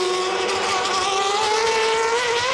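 Formula 3000 race cars at a 2003 race in Italy, a loud high-pitched engine whine rising steadily as the cars speed past, sustained and close over the full moment.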